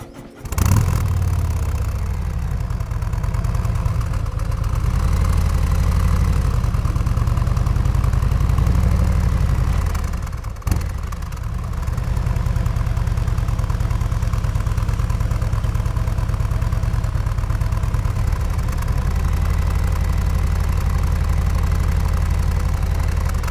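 A Harley-Davidson Road Glide 3 three-wheel motorcycle engine starts and settles into a steady, loud idle rumble, with one brief dip partway through before the even throb resumes alone.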